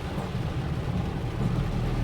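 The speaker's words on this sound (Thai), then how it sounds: "ฝนก็ยังตกดูตลอดอยู่นะครับ" Steady heavy rain during Typhoon Podul on a forest road near Nang Rong, Buriram, a dense continuous wash of falling water with a low rumble underneath, no voices.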